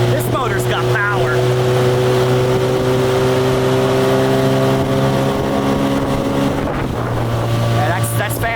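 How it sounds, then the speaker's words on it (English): A 1989 Yamaha Mariner 30hp outboard motor runs at about one-third throttle, a loud steady droning whine with wind noise, and a voice speaks briefly over it. "About 1/3 throttle. Oh man, this motor's got power."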